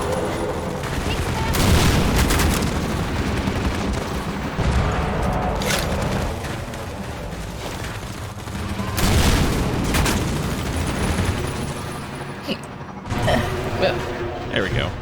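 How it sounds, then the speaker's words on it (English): Loud explosive firing bursts from the rocket launcher in the video game Half-Life 2, heavy booms and gunfire-like blasts recurring across the span with a talking voice over the top. "Whoa, the rocket launcher sound is awesome."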